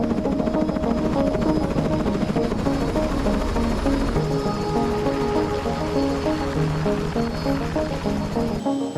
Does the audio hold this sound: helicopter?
yes